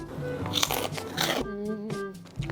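Crisp crunching of a cheese-coated corn snack, in short close bites near the start, followed by a voice with quieter chewing underneath.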